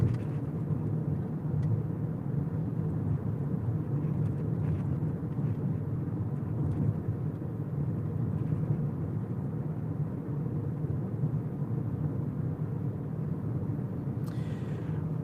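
A car drives south on Illinois 1 through Marshall during a severe-weather storm chase, with a steady low road rumble and engine drone from inside the vehicle and no talking.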